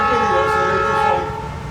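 A train passing nearby with a loud, sustained horn blast of several steady tones, holding strong before easing slightly toward the end, with no voices over it.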